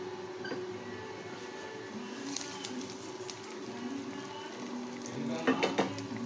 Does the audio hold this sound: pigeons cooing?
no